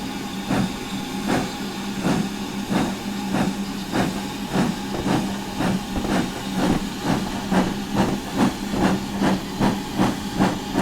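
Steam locomotive in Train Simulator 2020 with the Steam Sound Supreme pack on the Mid Norfolk Railway, rhythmic chuffing exhaust beats at a steady moderate pace over continuous hiss and rumble, no voices.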